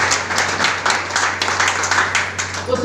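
An audience in a packed hall applauds a speaker, B.C. Chhabra, with dense, steady clapping that fills the space throughout, loud and close.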